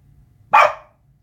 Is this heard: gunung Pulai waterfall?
no